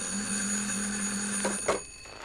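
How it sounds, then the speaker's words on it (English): An old telephone bell rings steadily in a radio courtroom drama, then stops abruptly with a click as the receiver is lifted, all close and clear with no voices. "the phone rang."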